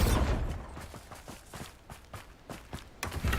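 A Bombarda blasting spell in Hogwarts Legacy goes off with a loud, low burst at the start that quickly fades, followed by a run of light, rhythmic footsteps and taps and a sharper knock near the end.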